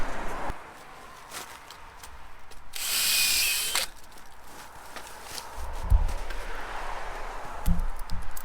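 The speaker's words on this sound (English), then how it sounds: "I'm trying a new drill bit in the Exactap." A drill runs while tapping a maple tree with an H2O bit in an Exactap, with a loud high whine lasting about a second amid outdoor rustling and knocks, then dull thuds and scraping.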